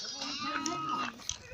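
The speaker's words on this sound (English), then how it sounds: "See the sheep?" Sheep bleating on a grandfather's sheep farm, a short wavering call at moderate distance with people talking nearby.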